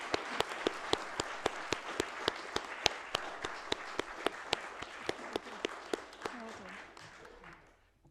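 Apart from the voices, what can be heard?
applause at council meeting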